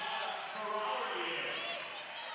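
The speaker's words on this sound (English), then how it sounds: "Big round of applause from the Drexel fans." Drexel fans at a women's college basketball game against William & Mary give steady applause and crowd noise in an arena as a senior player leaves the court, a continuous even wash of clapping at moderate distance.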